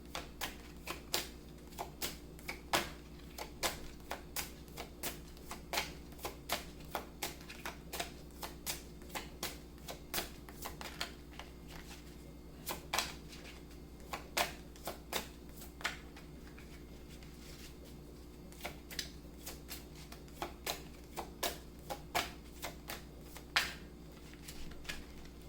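Tarot cards shuffled and handled in a quiet room, with steady rapid riffling and snapping clicks repeating across the whole span, soft and close with no talk.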